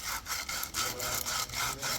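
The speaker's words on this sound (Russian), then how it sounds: "Тогда будешь шлифонить." Hand sanding with sandpaper during work on a Toyota semi-automatic clutch, a steady rhythmic rasping of repeated strokes, about eight passes in two seconds, close and fairly loud with no talk.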